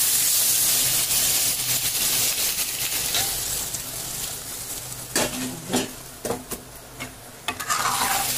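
Hot water poured into sizzling crab curry in a pan, a loud hiss and steam burst followed by bubbling and repeated close spoon stirs and scrapes in uneven bursts.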